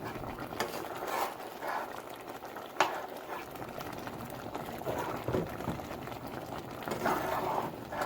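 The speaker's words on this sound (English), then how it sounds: "So I'm just gonna give it a stir to get the dumplings covered." Stew peas with dumplings being stirred in a pot, a soft continuous bubbling and scraping with liquid sloshing, moderately quiet and steady with occasional louder swirls.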